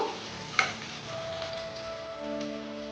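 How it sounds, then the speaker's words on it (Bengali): Bay leaves fry in a pan with ginger and garlic paste for a chicken roast with cauliflower, a faint steady sizzle under light spatula scrapes and one sharp clink of utensil on pan near the start. "আর তেজপাতাটা দিয়ে দিলাম, দিয়ে 2-3 মিনিট ভাজবো।"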